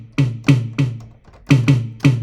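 Six high tom drum hits in two groups of three with a short pause between, each sharp, resonant and close, with no voices.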